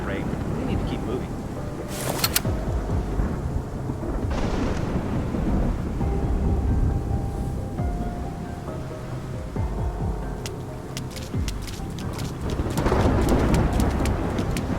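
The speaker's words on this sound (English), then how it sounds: "It's just the rain." Rain and rumbling thunder in the video game Love and Deepspace, a steady loud downpour wash with low rolls throughout, mixed with game music tones and occasional crackling bursts.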